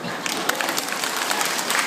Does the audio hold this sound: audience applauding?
yes